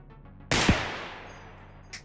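A single sharp gunshot from a handgun in the video game Receiver 2, loud and close, with a long reverberant tail, followed near the end by a faint metallic click.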